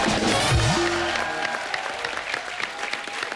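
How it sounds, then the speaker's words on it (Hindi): A studio audience at a comedy talk show applauds the arrival of guests Varun and Alia, broad crowd clapping that starts over a swooping musical sting and tones, then settles into steady applause. "जोरदार तालियां।"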